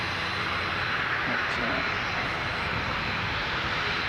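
An airplane taxiing at Christchurch Airport, New Zealand, its engine giving a steady, broad droning roar that stays constant throughout, heard from a spotting position at moderate distance.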